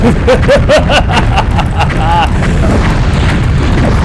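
A fireball spell bursts in Daggerfall, a loud booming roar over a rumbling bed, with chirping, warbling tones rising through it and a faint crowd-like murmur beneath.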